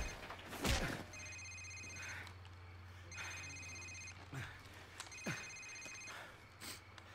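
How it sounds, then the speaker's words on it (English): A cell phone rings in Call of Duty 4, repeating bursts of electronic ringing tone separated by short gaps, over a low steady hum with a few thuds and faint voices in the background. "Sir, it's his cell phone."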